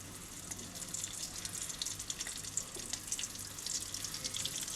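Mashed boiled chickpea dal hits hot ghee in a pan for halwa and fries with a soft, continuous sizzle and crackle, quiet and steady throughout.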